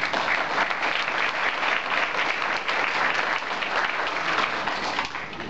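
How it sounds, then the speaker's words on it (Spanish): Audience applause at a tribute ceremony for a school in Lima, a dense steady round of clapping from a full room that holds evenly throughout without voices. "Un aplauso por él."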